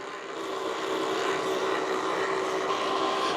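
A Breville Milk Cafe BMF600XL frother whirs continuously as its whisk froths milk, a steady, close, even whooshing drone with no pauses.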